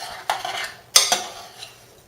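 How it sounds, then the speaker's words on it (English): A utensil stirring apples with cinnamon in a pot, a few sharp clinks and scrapes against the metal, close and separated by short pauses. "And so mix that all up really well."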